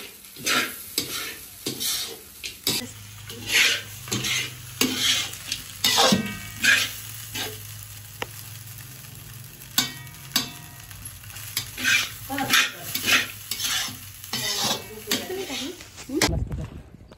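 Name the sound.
frying food in a pan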